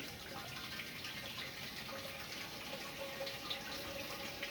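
A quiet, steady stream of water running out of an electric water heater during cleaning and splashing into a basin, continuous and fairly faint.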